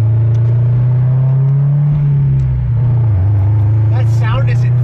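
A heavily modified Subaru STI making about 500 wheel horsepower drones loudly and steadily throughout, its engine note dipping and rising slightly, with no speech over it.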